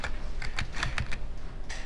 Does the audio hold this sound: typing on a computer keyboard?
yes